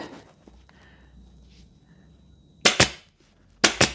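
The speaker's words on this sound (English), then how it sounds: "I'm going to start with the corners, pull the foam down and staple it" A staple gun fires sharp double clacks twice, close and loud, stapling foam down at the corners of a foot stool with timber rails, with quiet handling noise before.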